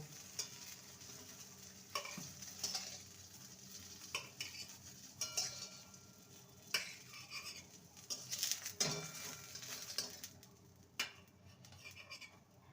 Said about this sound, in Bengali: এবার বেগুনগুলোকে তুলে নেব